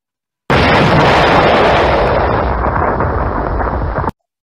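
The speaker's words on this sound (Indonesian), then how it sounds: "kalau sudah kena bomnya juga sama, dia juga akan punya animasi ledakan" A loud, sustained cartoonish explosion blast that roars for about four seconds before cutting off abruptly, with no talking.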